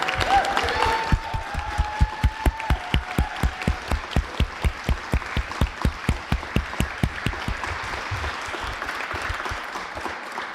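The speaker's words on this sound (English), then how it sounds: "Can we get a round of applause for our candidates" Audience applause at a school district candidate forum that settles into loud, rhythmic clapping in unison, then loosens and fades toward the end.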